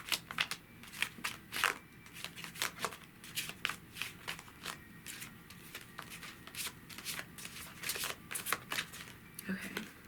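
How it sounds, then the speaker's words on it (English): Tarot cards are shuffled by hand on a table, making repeated crisp riffling and crackling bursts, close and fairly loud, with irregular pauses between them. "It's kind of hard to shuffle and get a grip on these cards"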